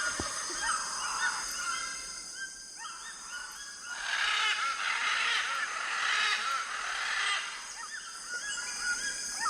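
Geese honk and call in a played outdoor soundscape, a steady chorus of overlapping cries that swells louder through the middle and settles again, with no talking.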